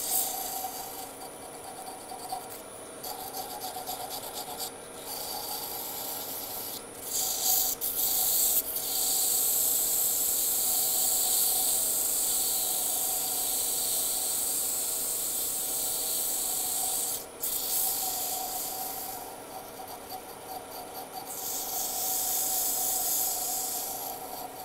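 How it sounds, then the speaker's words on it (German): Sandpaper rubs against a spinning wooden ballpoint pen blank turned on a lathe, giving a continuous hissing rasp that swells and eases in passes, with short breaks, and no talking. "jetzt ist wieder Schleifen angesagt"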